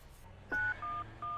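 Three touch-tone dialing beeps from a phone in a video game, each a short steady tone separated by brief gaps, standing out clearly over a low background hum.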